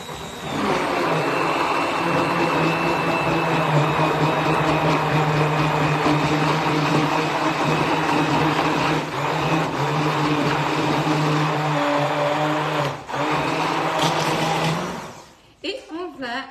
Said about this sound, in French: Vous avez ici donc le plongeur mixeur.